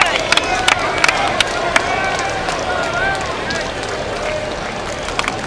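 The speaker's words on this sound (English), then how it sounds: "Justin Wayne's parents cheering in the stands" A crowd of fans in the stands at a college baseball championship game between Stanford and LSU cheers and murmurs steadily, with sharp claps and whoops popping out of the crowd noise.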